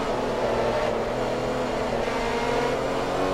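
A Ferrari race car engine in Forza Motorsport 3 drones steadily on a fictional track, a loud sustained roar with shifting pitch and no talk over it.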